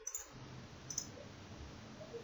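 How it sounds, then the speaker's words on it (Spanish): Computer mouse clicks while working in the LTspice circuit simulator, a few faint, close clicks scattered over a quiet background with no talking. "clic derecho aquí"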